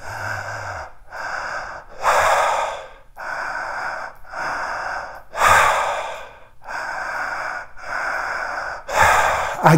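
A person demonstrates exaggerated rhythmic breathing, filling the belly then the chest before releasing, heard as a series of loud, close, forceful breaths in a steady cycle with no talking.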